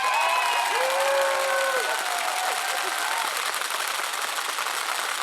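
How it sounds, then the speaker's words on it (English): Loud, dense applause from a keynote audience at a storytelling talk, sustained throughout, with whoops and cheering voices rising over the clapping early on before it settles into steady clapping. "I want you all to give yourselves another wonderful round of applause"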